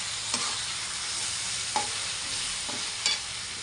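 Peeled garlic frying on full heat in a pan, a steady hiss broken by three or four sharp scrapes of a spoon stirring it, close by with no talking.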